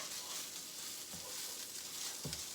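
Mushroom risotto rice frying in a pan, a steady broadband sizzle throughout with two short stirring scrapes near the middle and end, close and fairly loud.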